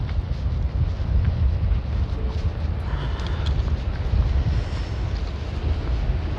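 Strong wind gusts around an RV, a heavy, continuous roaring rumble buffeting the microphone, loud and close throughout with no pauses.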